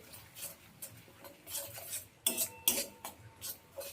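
Tomatoes with ground mustard-chili paste cooking in a pan over low heat, a spoon tapping and scraping the pan in irregular light clicks, close but quiet, no voices.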